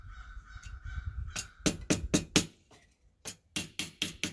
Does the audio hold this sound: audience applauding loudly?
no